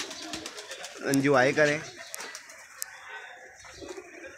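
Pigeons coo in a rhythmic rolling burst near a rooftop loft, with a person's voice speaking briefly and faint ambient noise around the calls.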